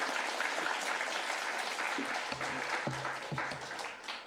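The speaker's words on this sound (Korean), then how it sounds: "자, 우리 선교사님 나올 때 할렐루야 그리고 큰 박수로 환영하도록 하겠습니다." Church congregation at a Sunday afternoon service gives a big round of applause to welcome a missionary, a full, steady wash of many hands clapping throughout, with a few louder individual claps standing out near the end.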